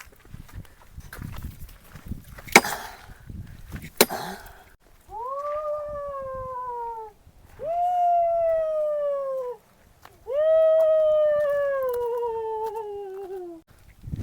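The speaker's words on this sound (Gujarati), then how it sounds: "કૂતરા રોવે હે" After a few sharp knocks, dogs howl in long drawn-out howls that rise and fall in three separate wails, fairly clear against a quiet background.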